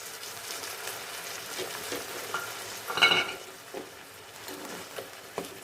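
Tomato paste fries with spices and salt in a pan for a fish curry, making a soft continuous sizzle with small crackles and one brief louder burst near the middle, with no talking.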